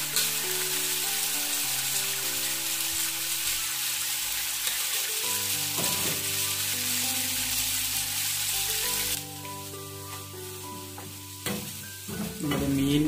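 Pieces of tuna fry in hot oil for pickle, a steady close sizzle that runs throughout, with occasional stirring scrapes and a few louder clatters near the end; no talking.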